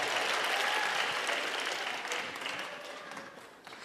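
An audience claps together in a dense, steady round of applause that stays loud for a few seconds and then gradually thins and fades, with no talking over it.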